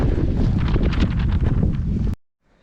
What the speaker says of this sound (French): Donc, toujours du vent, hein.